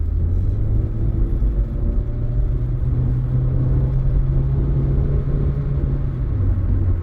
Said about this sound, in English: put the foot down a little bit to see whether it does actually go